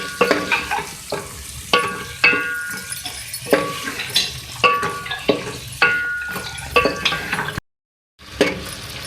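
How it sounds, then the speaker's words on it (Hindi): Curry leaves frying in a pan for dal, with a bright sizzle, rhythmic stirring scrapes and occasional clinks of a spoon against the pan, close and fairly loud, ending in a brief moment of silence. "इसके साथ कड़ी पत्ता ऐड कर रही हूँ। ठीक है, 8 से 10 ले सकते हैं। इसको फ्राई करेंगे।"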